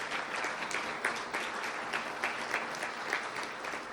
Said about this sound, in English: a round of applause for them and the chamber staff